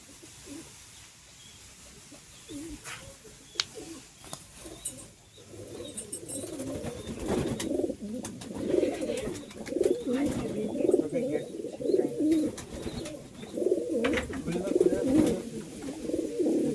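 Domestic pigeons coo in repeated low, throaty phrases, loud and close, building from a quieter start, with faint chirps and a brief soft voice in the background.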